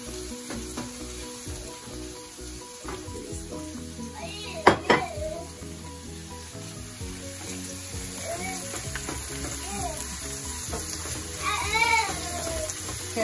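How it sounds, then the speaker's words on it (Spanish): Garlic and onion sizzle together in hot oil, a steady frying hiss running throughout, with a sharp clatter near the middle, someone talking over it and a cat meowing faintly now and then. "el aceite ya está. Vamos a poner el ajo y la cebolla juntos"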